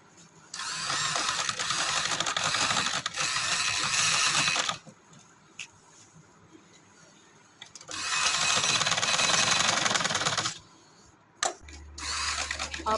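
A sewing machine runs stitches along the fabric edges of a jali-style ghilwar poncha, in two long steady whirring runs separated by quieter pauses and a short final burst, loud and close.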